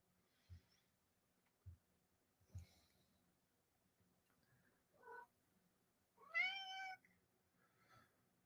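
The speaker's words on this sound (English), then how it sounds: "It's my wife's cat." Domestic cat meowing in a quiet room, a few soft separate meows with one louder drawn-out meow near the end, between faint thumps and breathy noises, close and alone.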